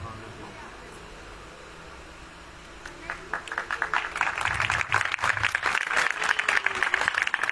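An audience at an outdoor Christian worship meeting breaks into sustained clapping after a quiet stretch of background hum, the applause building to a steady, fairly loud patter.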